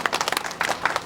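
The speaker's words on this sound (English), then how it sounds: "Let's clap our hands." Audience members at a women's organisation gathering clap in short irregular bursts, a thin patter of hands that rises and falls over about a second.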